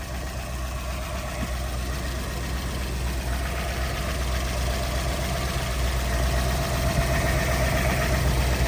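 A 1968 Ford Bronco Stroppe Baja engine idles with a steady, slightly uneven low rumble, close and constant throughout, with no voices over it.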